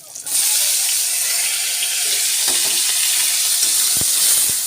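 Dried fish and garlic hit hot oil in a pan with a sudden loud sizzle that settles into a steady, close frying hiss, broken by a few soft clinks of stirring.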